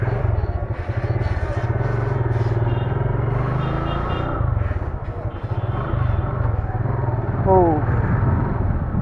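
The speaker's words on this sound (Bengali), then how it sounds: "let's ride the new Gixxer." Suzuki Gixxer SF motorcycle engine drones steadily while riding, a loud continuous close rumble with slight pitch shifts, and a voice talks over part of it.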